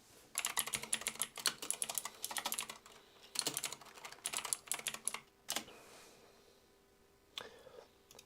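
Fingers clatter on a computer keyboard in quick bursts of typing with brief pauses between them, close and fairly quiet, with a few isolated keystrokes near the end.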